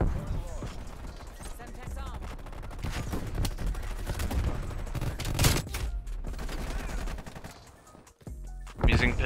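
Gunfire in Call of Duty Cold War with dual Diamatti pistols, rapid bursts of shots and loud game effects crowding together, with a player talking over the action throughout.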